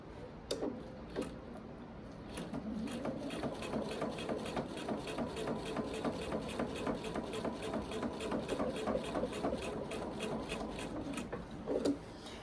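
A sewing machine quilts steadily, its feed dogs pulling the quilt along, producing a fast, regular mechanical ticking rhythm that stays close and even for the whole stretch.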